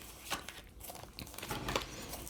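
A deck of tarot cards being shuffled by hand: a few soft riffling, papery bursts with short pauses between them, close and quiet.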